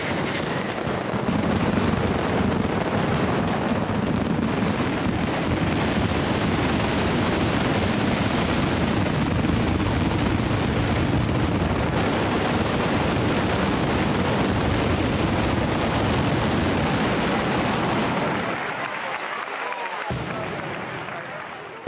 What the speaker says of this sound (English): It's a well-orchestrated explosion of thousands of firecrackers.